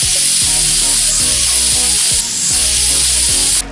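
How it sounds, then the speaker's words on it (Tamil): A pressure cooker holding lentils on a stove lets out a loud, sustained steam whistle, a continuous close hiss that cuts off near the end. "குக்கரை மூடிட்டு 3 விசில் போட்டோம்னா போதும்."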